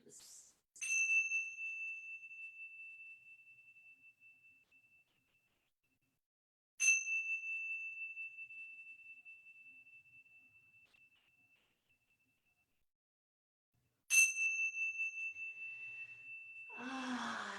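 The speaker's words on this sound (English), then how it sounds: "let's listen for the bell to ring 3 times" A meditation bell, struck three times in a quiet room, gives a clear ringing tone each time that decays slowly into silence, with a soft breath or shuffle at the end.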